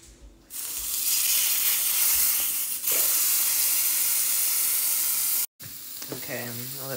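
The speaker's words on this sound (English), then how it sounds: "Hot already, so we're gonna go ahead and add our steak." Steak sizzles in a hot pan, a loud dense frying hiss that starts abruptly as the meat goes in and holds steady and close, briefly cut off near the end before a voice speaks.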